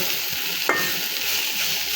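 Onions sizzle steadily in a hot pan for a kharkol leaf bharta, with a soft continuous crackle and one brief scrape of stirring.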